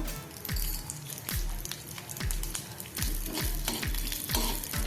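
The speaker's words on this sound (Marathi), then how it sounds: "एक टीस्पून आपण चना डाळ आणि अर्धा टीस्पून उडीद डाळ घालणार आहोत हे आपण थोडं फ्राय करून घेऊया" Mustard seeds, chana dal and urad dal frying in oil for a rava idli tempering: a continuous crackling sizzle, with repeated scraping stirs and a dull knock roughly every second.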